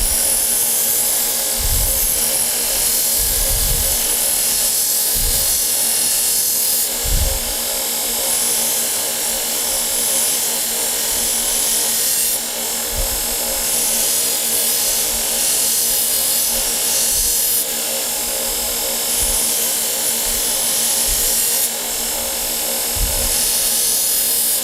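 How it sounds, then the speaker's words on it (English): A knife blade being thinned on the flat side against a very soft grinder contact wheel, a steady loud whine of the belt grinder running throughout with brief lower thumps as the steel is pressed on. "if I want to thin this blade on the top of the contact wheel, the contact wheel is very soft"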